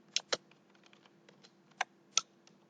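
Typing on a computer keyboard, several sharp clacks mixed with softer key taps in an irregular rhythm, close by and fairly quiet over a faint steady hum, with no talking.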